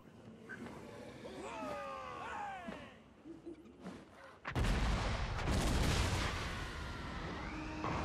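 Artillery firing in the Total War Warhammer video game, a sudden loud boom rolling into a sustained rumble of battle noise, after a stretch of chirping and scattered ambient sounds.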